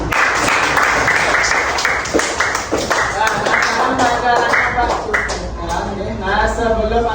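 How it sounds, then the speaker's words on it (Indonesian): Schoolchildren clap together in a classroom, a loud, ragged burst of many small hands that carries on for several seconds, with young voices chattering and calling out over it. "Dan kasih tepuk tangan."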